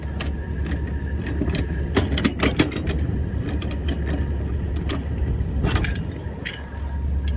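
A ratchet strap winder reels in a cargo strap, giving rapid clicking and rattling bursts over a low, constant engine rumble nearby, with irregular metallic clacks throughout.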